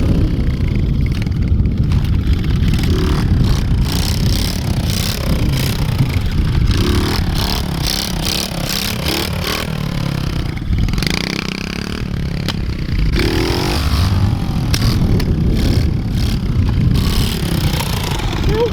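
A pit bike engine revs hard during wheelies, a loud, continuous, buzzing motor note with repeated rises and dips in throttle and some rattling clatter, close to the recorder for the whole stretch.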